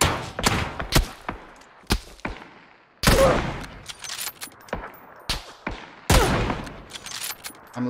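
Gunfire in the battle royale shooter PUBG: a loud, close run of sharp shots and short bursts, irregularly spaced across the whole stretch, with heavy thuds between them and no talking.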